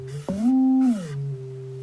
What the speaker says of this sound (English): Some kind of sine wave thing.